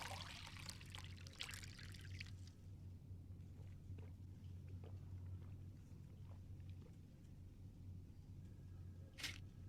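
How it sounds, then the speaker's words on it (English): In the video game Fahrenheit: Indigo Prophecy, a cup is filled with water. A faint, soft pouring trickle comes mostly in the first few seconds, then fades into quiet background ambience, with no speech. "Get a cup of water."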